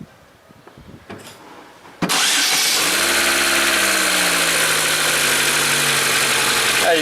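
A 2013 Chevrolet Agile 1.4 engine cranks and fires after a short quiet moment with some faint handling noises, then settles into a steady, even idle heard up close.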